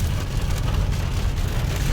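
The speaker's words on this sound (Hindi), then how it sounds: "बहुत तेज बारिश हो गई यार" Heavy rain pounding a car on a road-trip drive near Ramban, a dense, continuous hiss and drumming with a low rumble underneath and no voices.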